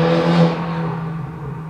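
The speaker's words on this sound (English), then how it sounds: "Where's the car gone?" A car passes nearby, with a swelling engine whir that peaks early and then fades steadily as it moves away. No one speaks.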